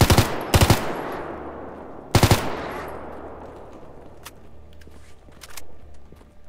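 Two short bursts of AK rifle fire in the video game STALKER GAMMA, loud and close, each a tight rattle of a few rounds, followed by fading echo and faint ambient rumble with scattered distant clicks.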